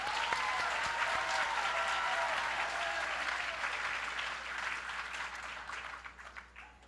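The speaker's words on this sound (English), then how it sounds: "Let's give one more round of applause for all of our teams tonight." Audience applause for the student teams at a high school pitch night, a broad sustained wash of clapping from a large room that slowly tapers off, with a faint voice or tone briefly audible early on.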